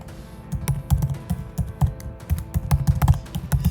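Rapid, uneven keystrokes on a computer keyboard as a phone number is entered into an online order form, close and clear with short irregular bursts and no talking.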